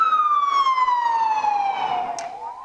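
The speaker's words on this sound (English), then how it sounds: "the sirens, I could not hear you" An emergency siren sounds nearby, wailing loud and alone as its pitch slides steadily downward, then begins to rise again at the end.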